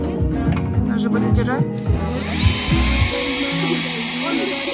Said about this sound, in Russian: Бери дрель.